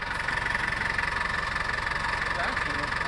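Stuck diesel vehicle with its engine running, a steady, close, knocking idle rumble throughout, with people talking over it.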